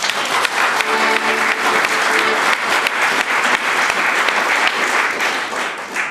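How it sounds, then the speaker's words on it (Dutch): Loud, sustained applause from an audience at a writers' party held by a publisher in Alkmaar, dense clapping that carries steadily throughout with faint voices mixed in. "in de eerste plaats een applaus voor Kees."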